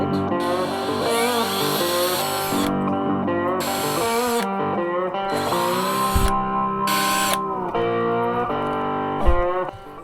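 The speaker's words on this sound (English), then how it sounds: "I'm going to drill these out." A power drill bores holes in a fishing lure, its close, loud whine running in several sustained bursts broken by short pauses and slight changes in pitch.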